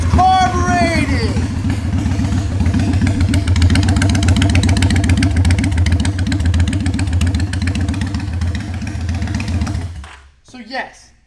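A carbureted motorcycle with about 8,871 miles idles with a steady, loud, lumpy putter for roughly ten seconds after a quick start, then shuts off. A voice speaks over the start.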